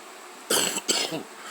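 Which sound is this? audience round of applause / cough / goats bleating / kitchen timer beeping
cough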